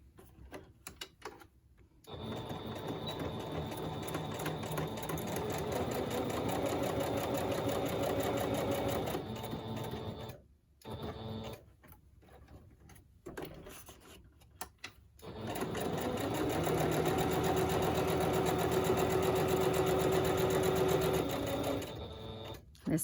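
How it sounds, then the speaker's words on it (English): A sewing machine single-stitching fabric, running in two long steady bursts of rapid mechanical chatter separated by brief pauses and quieter handling noises, close and fairly loud. "So all we have to do is single stitch around."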